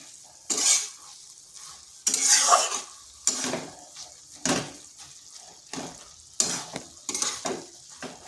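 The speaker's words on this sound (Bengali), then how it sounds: "একটু খুন্তি দিয়ে এইভাবে করে দিচ্ছি তাতে বেশ মাখো মাখো হবে" A vegetarian cabbage curry being worked with a spatula in a pan produces repeated close scraping stirs in irregular bursts, with a light sizzle underneath.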